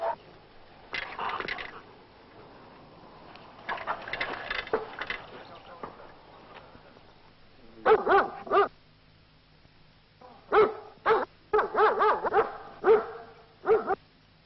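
Dogs bark during attack-dog training in 1960s France. A voice is heard at first, then sharp, close barks come in quick repeated bursts and short clusters.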